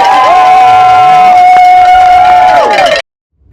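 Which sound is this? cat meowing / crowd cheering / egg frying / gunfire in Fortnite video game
crowd cheering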